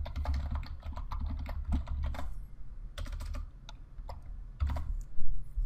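Quick clusters of keystrokes on a computer keyboard, close and moderately quiet, separated by brief pauses, with no one talking.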